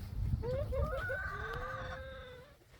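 Chickens on a farm cluck and make a short drawn-out crowing call, close by, over low rumbling background noise.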